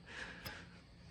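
One quick, close nasal sniff from a person checking around a brake line for brake fluid smell, brief and fairly soft against a faint background.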